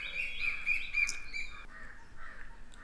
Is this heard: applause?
no